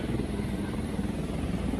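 A helicopter comes in to land at a helipad by Atlantis in Dubai, a loud, steady rotor and engine drone with a dense low throb that fills the short clip.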